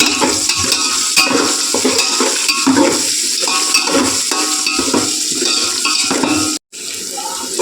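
Pan frying for mandakki mirchi bhaji, with turmeric and sugar added, makes a loud, steady sizzle under constant stirring and scraping, with a brief drop near the end.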